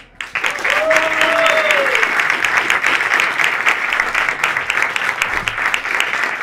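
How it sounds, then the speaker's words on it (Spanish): An audience claps loudly and steadily for Juana Roca at a Phi Beta Lambda event, a dense sustained round of applause, with a brief tonal sound rising early on. "aplauso fuerte para Juana Roca"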